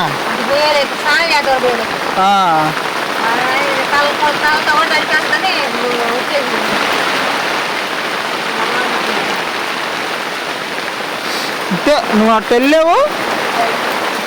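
Sudden heavy rain pours at night, a dense steady hiss of water falling throughout, with people talking loudly over it near the start and again at the end.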